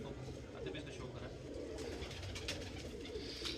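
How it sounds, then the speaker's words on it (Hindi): A champion racing pigeon nicknamed Mota, kept on a rooftop loft in Karachi, coos softly and steadily through a busy background, with a voice speaking over part of it. "ये पिछले साल आतिफ भाई का चैंपियन कबूतर है"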